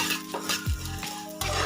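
Chana dal and coriander seeds dry-roast in a pan, with scraping spatula stirs, a couple of dull knocks and light clinks over a soft sizzle, close up and without talk.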